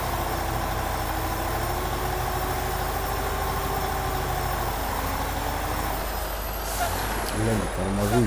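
A DAF XF-105 truck in the Spin Tires video game brakes and slides on icy winter roads, with a steady engine drone, hissing air brake and rumbling motion throughout, plus a faint whine and some bumping near the end.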